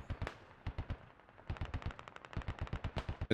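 Bursts of .50 cal machine gun fire in the video game Squad, rapid close rhythmic volleys with brief pauses, loud and dry with no talk.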